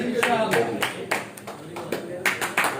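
Scattered hand clapping from an audience at a political rally program in Kot Momin, a few uneven sharp claps close by under someone speaking.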